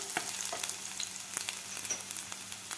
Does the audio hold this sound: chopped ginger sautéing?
yes